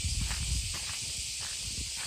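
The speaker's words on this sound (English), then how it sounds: "The semi or cicada. It's the sound of Japanese summer" Cicadas (semi) drone in a continuous high, hissing buzz on a Japanese summer day near Okayama Castle and Korakuen Garden, loud and unbroken, with soft footsteps or rustling underneath.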